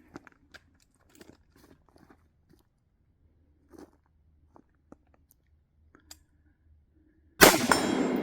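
Outdoor rifle shooting at steel targets on a wooded slope during a 2-gun class: faint, scattered metallic pings and ticks, then one loud, close blast near the end that rings out briefly.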